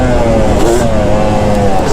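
A Yamaha YZ250 two-stroke motocross motorcycle engine runs at a loud, steady high rev, close and sustained without breaks, with a buzzy drone and wind rush over it.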